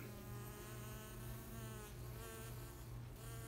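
Dense, steady insect buzzing of many honey bees close by, a continuous drone with shifting tones and no voices.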